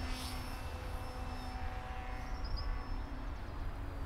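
A Durafly Tundra RC plane hovers, its electric motor giving a steady, thin whine with faint wavering over a continuous background, with no voices.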